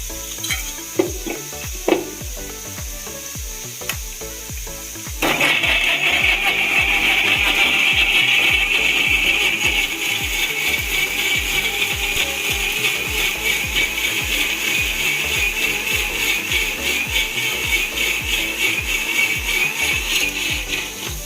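A mixer grinder purees curd with ginger, garlic, coriander and mint leaves and tomato into a paste for chicken biryani. After a few seconds of clicks and handling, a loud steady whirring grind runs on continuously.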